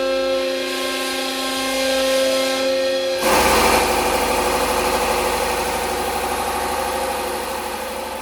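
Gen V LT V8 with a hydraulic roller cam fires up partway through and settles into a loud, steady, rumbling idle after a droning hum.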